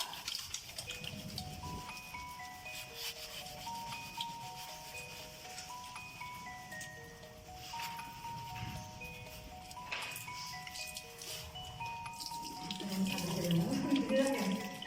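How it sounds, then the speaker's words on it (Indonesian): Hands are washed under a running tap, with steady splashing water and rubbing throughout, a melodic tune playing in the background and a voice speaking over it. "Lakukan teknik cuci tangan dengan 6 langkah."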